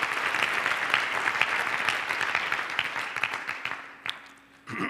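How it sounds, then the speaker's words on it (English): An audience applauds in a dense, steady burst of clapping that fades over several seconds, ending in near silence with a brief voice at the close. "Give them a round of applause."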